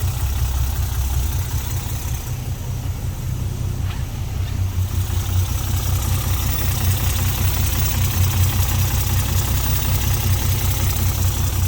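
A 1984 Alfa Romeo GTV with a fuel-injected 3.2-litre engine and aluminium heads idles, giving a steady, loud, low, rumbling throb that holds evenly throughout with no talk.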